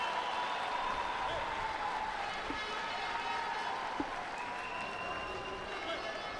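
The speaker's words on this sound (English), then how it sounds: "cheers from the home crowd as Islam Kametov throws Lasha Gionashvili" A home crowd at the 2017 Judo Grand Slam in Ekaterinburg cheers and applauds steadily for an ippon throw, a broad, even roar filling the arena beneath a commentator's voice.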